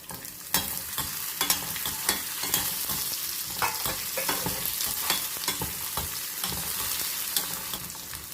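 Garlic, green chillies and curry leaves fry steadily in hot oil with cumin, a dense continuous sizzle broken by sharp crackles and the scrape of stirring, close and fairly loud with no voices.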